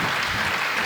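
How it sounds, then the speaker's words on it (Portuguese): A congregation in church gives a short, dense round of applause that stays steady and even for under a second. "Dê um forte aplauso ao Senhor Jesus."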